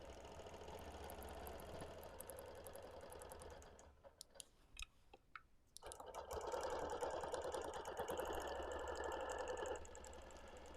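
A quilting sewing machine stitches a cross-hatching pattern in steady, fast runs: a busy stretch, a pause filled with sparse ticks and clicks, then a louder, denser burst of stitching that stops near the end.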